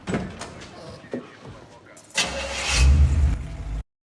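A car engine cranks and catches in a Fast Five movie scene, rising to a loud, rumbling idle over a couple of seconds, with speech heard beforehand.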